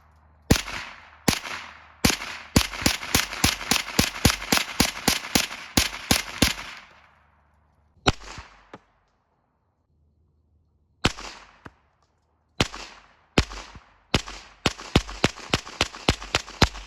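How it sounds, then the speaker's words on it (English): Rapid .22 long rifle shots fired into a can of beans, sharp cracks in fast bursts and scattered single shots with gaps between, loud and close, no talking. "All right, now we're doing 22 long rifle into a can of beans."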